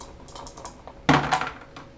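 Trusty dice roll for a tabletop wargame artillery shot, a few light clicks and then a sharp clattering tumble on the table.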